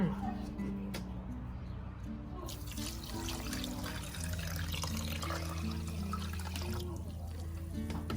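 Water pours steadily into a pot of sugar to make syrup, a continuous close splashing and gushing rush lasting throughout, with a faint voice underneath.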